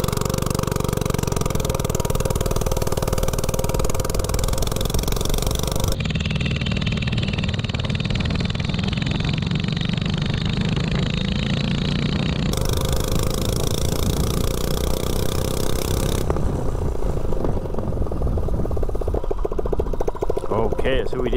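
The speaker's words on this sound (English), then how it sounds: "0-30, 179cc snowblower engine with no exhaust." A mini bike with a 179cc snowblower engine and no exhaust accelerates with a loud, raw, unmuffled roar that runs continuously near the listener. Its pitch shifts in distinct stages as it speeds up and then rattles toward the end.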